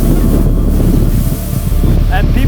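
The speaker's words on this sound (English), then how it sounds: "fucking windy, like 25 to 35 knots" Loud, continuous wind of 25 to 35 knots buffets the microphone with a deep roaring rumble, gusting without pause across the whole stretch, at a windsurf foiling event.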